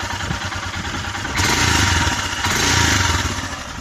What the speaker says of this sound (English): bike's running. Look at that, it sounds sweet, doesn't it?